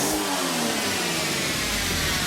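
A 2008 Audi TT 3.2L V6 Quattro on its stock exhaust revs up, the close, loud engine note climbing and sustaining with a raspy mid-range growl.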